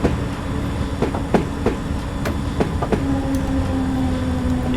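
London Underground S stock train on the Circle Line in Train Simulator 2020, running at low speed with a steady loud rumble, clicking wheel beats and a rising motor whine, with no talk.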